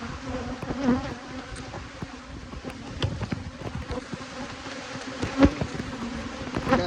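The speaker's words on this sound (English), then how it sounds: "I want y'all to see the bees on me" Bees swarm thickly around a beekeeper robbing honey from a beehive, their dense, steady buzzing close and loud throughout with a few sharper passes near the ear.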